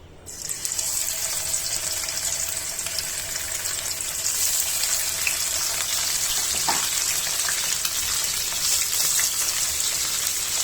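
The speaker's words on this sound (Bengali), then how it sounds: "মাছটা আমি মাখিয়ে রেখেছি, এখন ভেজে ফেলবো" Seasoned surma sea fish frying in a pan over low heat, a loud, dense, continuous sizzle and crackle heard close up, with no one talking.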